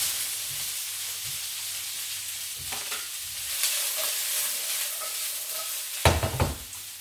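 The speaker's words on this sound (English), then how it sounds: "so that is sizzling away there and it's smoking a little bit." Broccoli and vegetables sizzle and hiss steadily in a frying pan, with occasional stirring scrapes and a louder burst of frying near the end, heard close and without talk.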